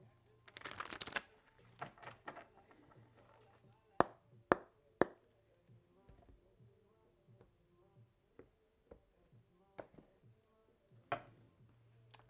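Tarot cards are shuffled in a quick riffling burst, followed by sharp, scattered taps and snaps as cards are handled in a quiet room.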